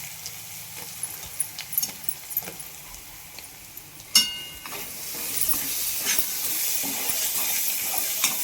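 Masala roasting in a hot pan before chilli powder goes in, a steady frying hiss with scattered stirring scrapes and a sharp clink near the middle, no voices over it.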